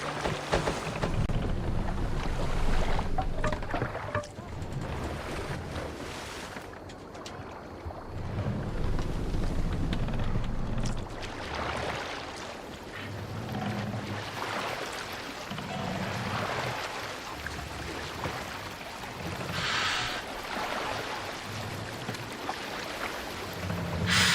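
A sailing longship crosses open water in Assassin's Creed Valhalla, with steady wind rush and water washing against the hull, swelling and easing over time, and no talk.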